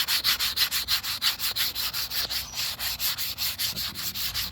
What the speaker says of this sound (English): I'm not showing white yet, but this is how it's supposed to sand.